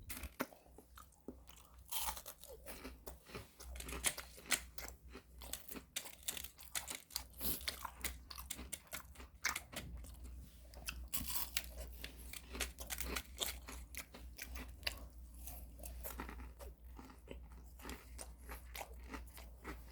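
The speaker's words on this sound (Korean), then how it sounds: "새우튀김" Someone bites and chews crunchy shrimp tempura close up, producing a quiet, continuous stream of crisp crackling crunches and chewing sounds with no talking.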